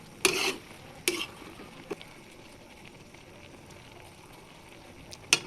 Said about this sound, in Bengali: খুলে আমার বড়ই একটু নেড়ে দিব